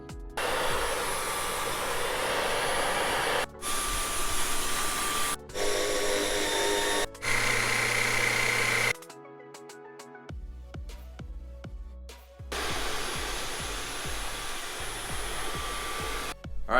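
A Dyson V11 Outsize cordless vacuum cleaner runs loud and close with a steady high motor whine, cutting out briefly several times and stopping for a few seconds near the middle before starting up again, with light clicks and handling noise.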